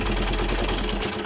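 A Hero Honda Splendor motorcycle engine, started after sitting unused for 15 years, runs with a steady, rapid mechanical chatter and rattle, close and continuous throughout a short stretch.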